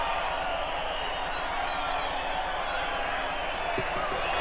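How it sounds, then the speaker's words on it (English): Rugby crowd at a 1988 Western Division versus Great Britain match applauding a try, a continuous wash of clapping and cheering with a commentator talking over it. "Very appreciative crowd here once again."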